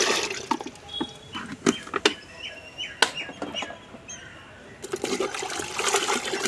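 Fermented peanut cake fertiliser is poured into a bucket of water, giving close splashing and gurgling pours with a short pause, and faint bird calls in the background.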